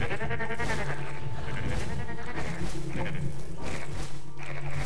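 Goat men enemies in the video game Book of Demons bleat repeatedly over loud game music and combat effects, several wavering cries overlapping throughout.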